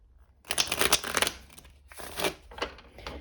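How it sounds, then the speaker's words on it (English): Tarot cards riffled and shuffled by hand in a quiet room, a loud burst of papery flapping followed by several shorter shuffling bursts, close and alone. "we'll do one last shuffle"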